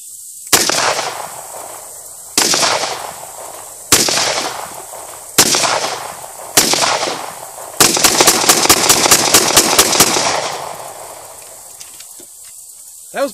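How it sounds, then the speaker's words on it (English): Beretta 92FS/92A1 pistol firing: five loud, sharp shots about a second and a half apart, then a rapid string of about a dozen quicker shots, fired double action first and single action after, with no talking. "First shots are going to be double action, followed by all single action shots"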